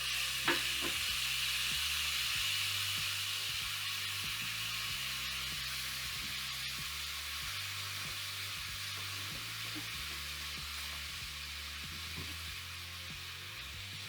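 Cauliflower steak sizzling in a cast iron pan, a steady broad frying hiss lasting throughout with faint scraping and low stirring clatter underneath, no voices.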